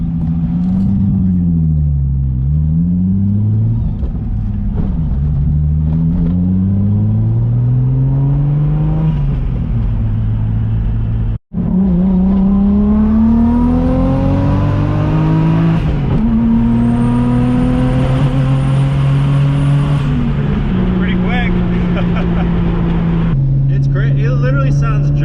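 A turbocharged RB25 engine swapped into a 520 hp Datsun 260Z revs up and down repeatedly through the gears while driving, rising and falling in pitch, close and loud, with a brief cut midway and turbo whistle.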